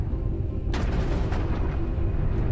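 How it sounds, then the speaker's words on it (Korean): Vesuvius erupting above Pompeii, heard as a sudden deep rumbling blast that breaks over low background noise and keeps roaring loud and steady after it. "잠들어 있던 베수비오 화산이 폭발했습니다."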